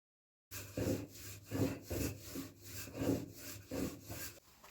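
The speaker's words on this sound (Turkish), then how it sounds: "hamur bezelerini mümkün olduğunca ince açalım" Lahmacun dough balls are rolled out thinly, making soft, rhythmic rubbing strokes against the floured surface, each swell repeating about once a second, close and quiet.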